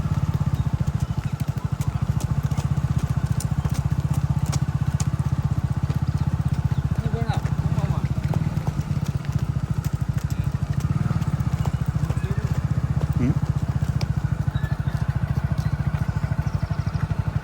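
Kathiyawadi horses on a group ride give a steady, close rhythmic clopping of hooves over a low rumbling drone, with a person's voice heard at times over the movement.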